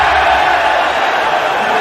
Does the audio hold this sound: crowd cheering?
yes